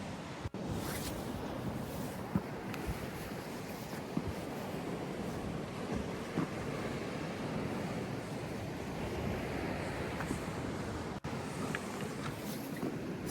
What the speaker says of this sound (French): Oh les vagues.